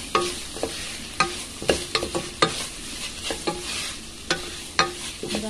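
Meat stirred and frying with turmeric in a pan, a steady sizzle punctuated by repeated sharp scraping clacks of the utensil against the pan at an irregular rhythm, close and clear.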